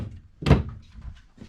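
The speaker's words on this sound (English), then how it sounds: "make sure all doors and drawers are closed" A door or drawer inside a Jayco Jay Flight 34RSBS travel trailer closes with one near, solid thunk, followed by softer faint knocks and rattles as it settles.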